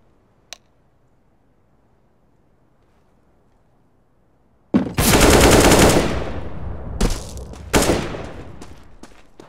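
Rapid automatic fire from an AUG rifle in the game CS:GO, erupting after a quiet stretch marked by one faint tick, then a loud sustained burst followed by a few shorter bursts close by.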